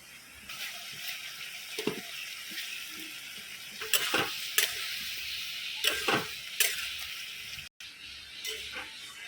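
A potato and cauliflower curry sizzling in a pan, with steady frying hiss and intermittent clinks and scrapes from stirring.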